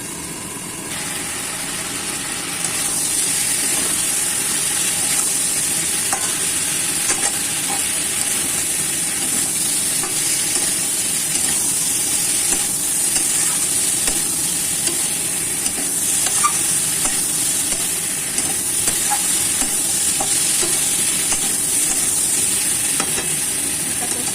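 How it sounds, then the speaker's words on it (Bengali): Puti fish curry sautés in a pan with turmeric, a continuous loud frying hiss that thickens after the first few seconds and holds steady, with faint occasional stirring ticks and no talking. "এভাবে এটা কষিয়ে নেব"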